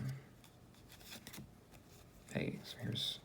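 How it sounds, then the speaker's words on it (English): A deck of playing cards shuffled by hand, riffling and rubbing bursts close to the mic, with a voice talking at moments over the shuffling. "I hope you could hear me over the shuffling."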